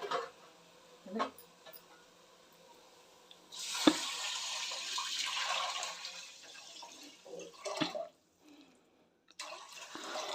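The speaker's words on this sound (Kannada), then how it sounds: "ಈ ಎರಡನ್ನೂ ನಾವು ಇವಾಗ ನೀರನ್ನು ಸೇರಿಸ್ಬಿಟ್ಟು ಬೇಯಿಸ್ಕೊಬೇಕು" Water poured into a pot of lentil khichdi for cooking, a soft steady gushing stream lasting a few seconds between faint clinks and handling noises, quiet and close.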